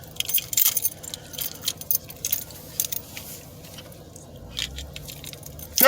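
A bunch of keys jangles and clinks in close, irregular bursts over several seconds, with soft handling noises between the rattles and a steady background hum.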